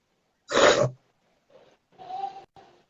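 One loud, sharp sneeze bursts out, followed by a few softer breaths and murmurs afterward.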